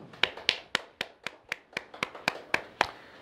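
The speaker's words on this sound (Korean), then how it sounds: "하나님께 영광의 박수 올려드립니다" About a dozen evenly spaced hand claps ring out at a steady beat, crisp and close, in a church gathering after a closing prayer at a sermon service.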